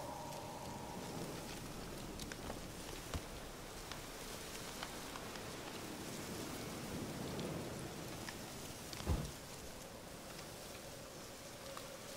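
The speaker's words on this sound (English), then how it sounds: "Looks like rain." Steady rain falling in a video game, a continuous even hiss with a faint low rumble and one brief soft thud near the end, no talk.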